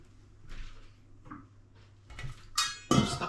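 A metal lid clatters onto a cooking pot while a pork paksiw stews, preceded by a few softer kitchen knocks and scrapes and ending in a bright, ringing clank close by.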